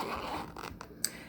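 A zipper on a small cosmetics bag with a little plastic ring pull is drawn open in a few short scratchy strokes, close and quiet, ending in a sharper final zip.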